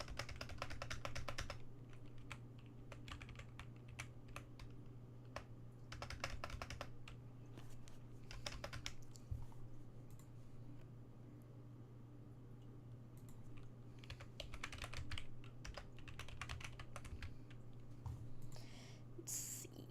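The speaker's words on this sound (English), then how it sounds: "Just typing something in." Quiet keyboard typing in bursts of rapid key clicks separated by pauses, close up over a steady low hum.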